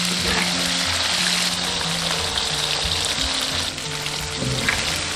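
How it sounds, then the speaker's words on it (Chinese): Chicken feet dusted with a thin coat of flour deep-fry slowly in plenty of oil over medium heat, a loud, continuous bubbling sizzle with a few low clunks underneath. "中火慢炸"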